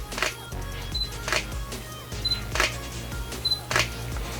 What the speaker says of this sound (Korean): 셔터음이 확실히 무게감이 생긴 걸 확인할 수가 있는데요.